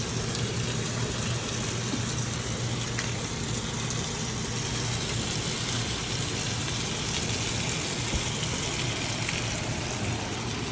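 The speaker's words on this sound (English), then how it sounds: "let that cook up and sear for a little bit first" Sous vide steak searing in a pan with butter, rosemary and thyme, giving a steady, dense sizzle that runs unbroken throughout at moderate level, with no talking.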